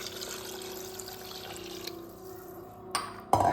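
Water poured into a cooking pot of rice and karamani (black-eyed peas): a steady faint liquid flow and trickle with a low hum underneath, ending in a brief clatter.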